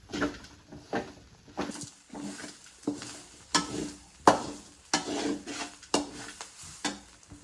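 Chammanthi ingredients roasting in a pan while being stirred, giving repeated scraping strokes of a spoon against the pan over a low dry sizzle, close and rhythmic with no talking.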